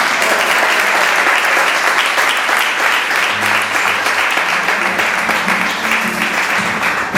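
An audience claps steadily and loudly after a children's song at a prize ceremony, a dense wash of applause that holds at full strength throughout, with faint voices underneath.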